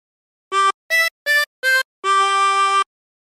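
A 24-hole tremolo harmonica plays a Jingle Bells phrase: four short separate notes followed by one longer held note, clear and close with no other sound.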